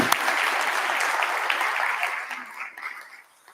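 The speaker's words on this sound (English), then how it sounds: "so I just want to give them a big round of applause" A conference crowd at Zcon4 breaks into applause for the ops team, a full, even patter of many hands that gradually thins and tapers off into silence.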